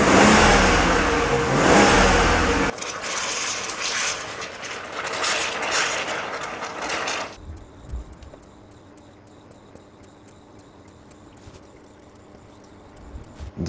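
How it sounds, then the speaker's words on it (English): Radiator fans on a wrecked, rebuilt BMW 540i run on high speed with a loud, steady rushing roar that drops to a quieter hum, with faint ticking and clicking near the end. "The fans are running on high speed"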